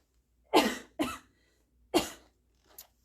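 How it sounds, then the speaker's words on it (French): Several sharp coughs close by, three strong bursts followed by a faint fourth, with silence between them. "Je vais comme tousser"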